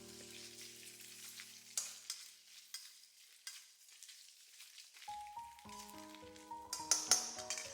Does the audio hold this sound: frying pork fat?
yes